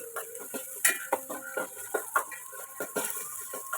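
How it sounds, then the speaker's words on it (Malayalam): A spoon stirs crushed garlic in hot coconut oil in a pan, with a steady run of light metallic scrapes and clinks and a faint sizzle in the background, and no talk. "നമ്മൾ ചെറുതായിട്ട് ചതച്ച് വെച്ചിരിക്കുന്ന വെളുത്തുള്ളി ഇട്ട് നന്നായിട്ടൊന്ന് മിക്സ് ചെയ്യാം"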